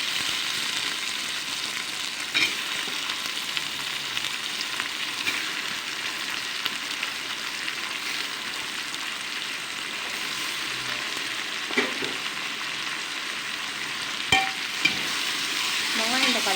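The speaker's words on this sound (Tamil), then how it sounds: "வெங்காயம் தக்காளி நல்லா வதங்கட்டும்." Onions and tomatoes sautéing in a pan for mutton biryani, a steady close sizzle of frying throughout, with occasional scrapes and clinks of a stirring utensil.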